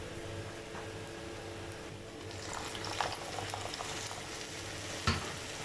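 Pav bhaji masala cooking in a pan with about a cup of added water, a soft continuous sizzle and bubbling with stirring scrapes and a couple of sharp clinks near the end, fairly quiet and without talk.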